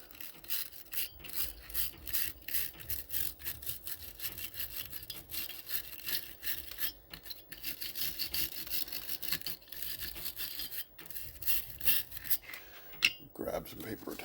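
A small brush scrubs a freshly soldered joint wet with Flux Clean spray, a steady scratchy rasping that continues without pause, near and fairly loud.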